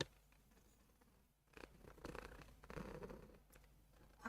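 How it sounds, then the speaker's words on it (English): A cat purrs close to the microphone, a faint low rumble that grows a little stronger partway through, with light rustling and scratching around it. "I think you can hear her purr now."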